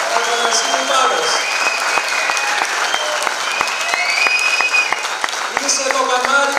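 Audience at a Greek church catechism school event honoring the homeland applauds a priest, Father Apostolos of Agios Athanasios, Paros, with steady, dense clapping from a crowd that continues throughout.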